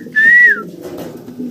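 Mundian pigeons at a pigeon seller's stall give low, murmuring coos, overlapped early by a brief high whistle-like call. No voices are heard.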